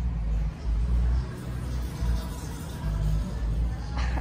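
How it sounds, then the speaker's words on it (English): A car passing outdoors near a plant nursery, with a heavy, pulsing low bass thump from its loud music and a rolling engine rumble, fairly close and steady, with no voices. "car just drove by with lots of loud music"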